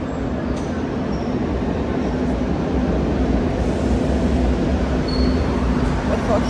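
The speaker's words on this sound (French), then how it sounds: "On est dans le métro." Steady rumbling roar of a Madrid metro train in motion, loud and continuous with a low hum throughout.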